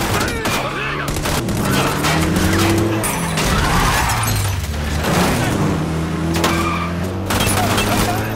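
Car engines roar loudly and continuously through an action-film chase between gangster cars, mixed with tire skids, gunfire-like bursts and shattering impacts in a dense soundtrack.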